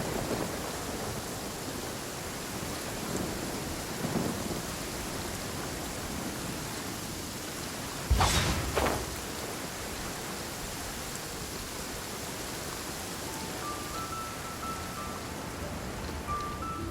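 Steady heavy rain hisses in Genshin Impact, with one sharp thunder crack about halfway through over the constant downpour and a faint tone near the end.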